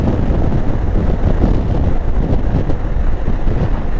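Steady, loud broadband wind roar buffets the microphone while riding a motorcycle at speed, a dense low rumble running unbroken with no voices.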